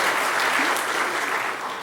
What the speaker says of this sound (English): clap for Eric